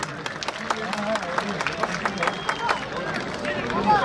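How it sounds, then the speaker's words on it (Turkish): Spectators at the 2019 Muğla wrestling championship applaud steadily, a dense patter of claps mixed with crowd chatter and nearby voices throughout. "Sayın seyirciler, bir alkış yapın bu aralar teşvike gelsin."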